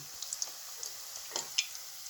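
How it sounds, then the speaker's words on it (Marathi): Flat bhajji fritters fry in hot oil in a kadhai, a soft steady sizzle broken by scattered quick pops and crackles, fairly quiet and heard alone. "तेल तापलं की भजी तळून घेऊया"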